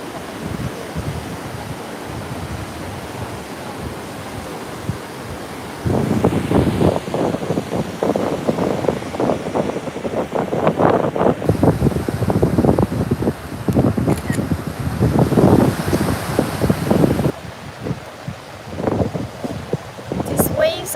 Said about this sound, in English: These waves are awesome.